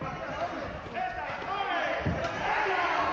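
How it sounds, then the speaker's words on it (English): A small boxing crowd inside the Marina Terra Event Center makes a low, steady murmur of scattered voices and occasional thuds, with a commentator talking over it. "You can hear the small crowd that is inside the Marina Terra Event Center here"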